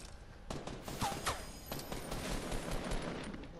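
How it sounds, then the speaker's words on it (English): Gunfire in the video game Fortnite: scattered, faint shots crack at a distance in a quick, uneven burst over soft background noise. "Who's that shooting?"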